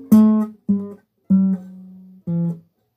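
Four notes of a riff plucked alone on a low-pitched acoustic or bass guitar, one note held longer before the last, played cleanly and close with silence between notes.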